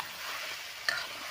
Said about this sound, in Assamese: হালধি অলপমান দি ভালকৈ ভাজি লৈছোঁ।